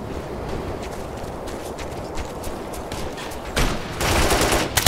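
Gunfire in the military shooter game Operation Flashpoint: Red River, a steady crackle of distant battle that swells into louder, denser bursts of rifle and machine-gun fire near the end.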